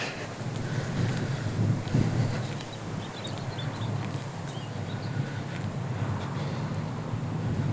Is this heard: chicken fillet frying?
no